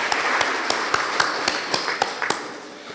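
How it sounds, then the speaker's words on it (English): An audience applauds Matiliku School after its score is read out at a school competition, steady crowd clapping with a few louder distinct claps standing out at a regular pace. "Please give them a round of applause."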